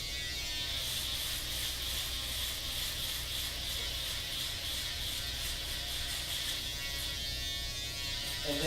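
An electric shaver buzzes steadily and close up while cutting a precision hair fade, a continuous high whir moving in circular passes with no talking.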